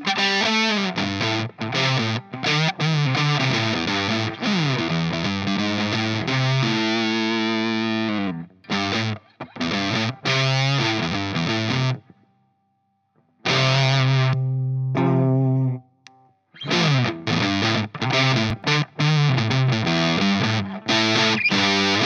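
Electric guitar through a Fuzz Controller fuzz pedal into a Marshall Plexi-style amp, a big woolly distorted tone with chugging riffs, sustained notes and brief pauses, loud and close without talk.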